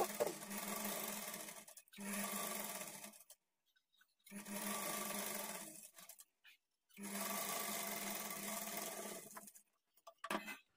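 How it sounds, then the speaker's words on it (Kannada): An electric sewing machine stitches along a blouse edge in three long, close, steady runs separated by short silent pauses, with a brief restart at the end. "ಡೈರೆಕ್ಟಾಗಿ ಸ್ಟಿಚ್ ಮಾಡ್ಕೊಳ್ಳೋಂಗಿದ್ರೆ ಈ ಕಡೆ ಎಡ್ಜ್ಗೆ ಡೈರೆಕ್ಟಾಗಿ ಸ್ಟಿಚ್ ಮಾಡ್ಕೊಳ್ಳಿ"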